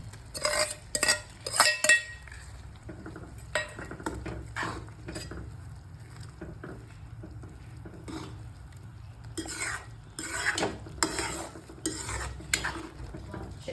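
Cooked fenugreek greens go into a boiling spiced gravy and are stirred with a spoon, giving bursts of metallic scraping and clinks against the pot over a faint bubbling sizzle, with quieter gaps in between.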